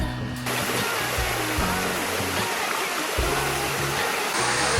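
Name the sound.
Bua Tong sticky waterfall flowing in Chiang Mai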